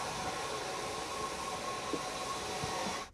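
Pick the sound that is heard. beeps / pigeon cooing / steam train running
steam train running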